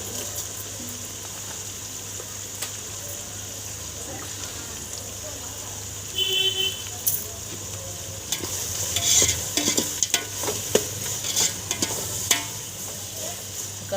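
Onions fry in a pot with a soft, steady sizzle beneath a constant background hum, joined midway by intermittent stirring scrapes and clinks of a utensil.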